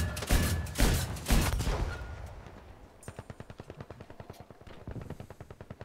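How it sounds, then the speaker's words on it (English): Anti-aircraft gun firing at a tank in Battlefield V: a few heavy booming shots open, then a steady rapid train of sharp, evenly spaced cannon rounds follows, loud and close. "Shooting the tank at C with my AA."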